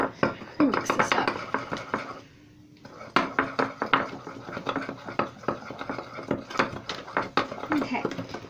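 Homemade cream bathroom scrub is stirred in a container, with repeated clinking and scraping strokes in a quick, uneven rhythm, close by, pausing briefly before resuming.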